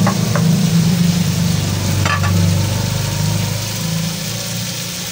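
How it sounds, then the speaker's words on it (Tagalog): Tofu toasting in a pan for pork tofu sisig, with a steady, close sizzle and frying crackle running throughout, a brief stir or scrape partway through, and a low constant hum beneath. "yan ko na rin po ito-toast yung ating tofu"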